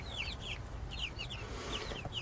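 Baby chicks about two and a half weeks old in a coop, peeping in short repeated bursts of high chirps over steady low background rumble, fairly faint and close.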